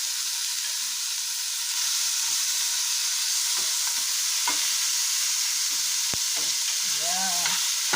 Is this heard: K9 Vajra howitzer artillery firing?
no